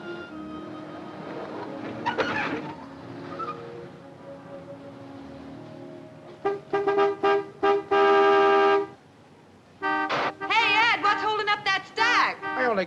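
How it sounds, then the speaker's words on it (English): Several car horn honks sounding in short bursts and a longer blast, with someone speaking over quiet background before them. "Some horn-happy creep just pulled in. Let him honk."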